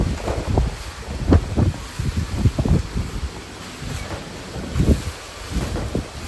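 Outdoor wind buffets the microphone in uneven gusts, producing low, rumbling bursts that rise and fall with no one speaking.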